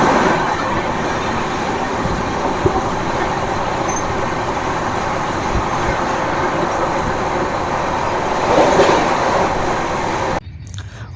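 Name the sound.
Howrah Bikaner SF express train running at speed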